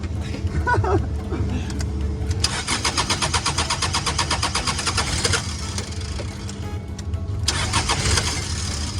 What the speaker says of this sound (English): She's not the best starter, Robert, is she